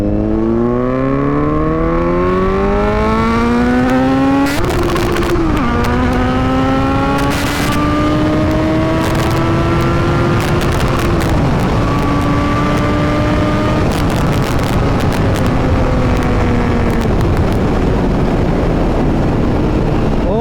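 A motorcycle revs hard on a jungle road and screams loudly and close as it accelerates past. Its engine pitch climbs steadily and drops briefly at each gear change before rising again.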